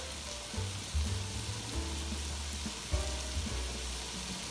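Cauliflower fried rice being stirred in a hot pan, a quiet continuous sizzle with soft scraping and shuffling of the spatula at irregular moments.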